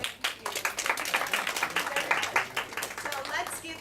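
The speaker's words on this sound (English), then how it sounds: "So let's give everyone another round of applause." Applause from a Toastmasters club audience at the close of a business school meeting, a steady patter of many hands clapping for about four seconds with some voices mixed in.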